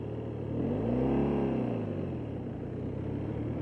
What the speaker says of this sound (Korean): 이게 확실히 엔진은 파워는 센데 굉장히 그래도 부드럽게 다듬어져 있어요.